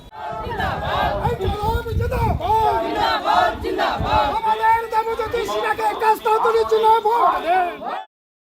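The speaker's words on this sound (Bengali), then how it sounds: "তার দলের কর্মী সমর্থকরা সরাসরি তার সমর্থনেই ভোট দেওয়ার জোর স্লোগান দিলেন ভূতনির বিভিন্ন এলাকায়" A crowd of political party supporters at an election campaign rally in Bhutni, Malda, loudly chanting slogans in unison, voices rising and falling rhythmically and close up, then stopping abruptly.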